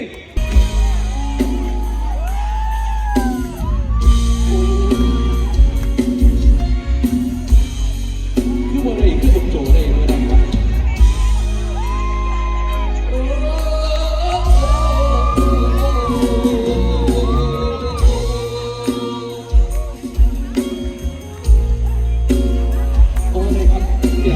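At a Thai concert, a large crowd shouts, whoops and cheers loudly over live music and a singing voice, with bursts of cheering rising and falling throughout.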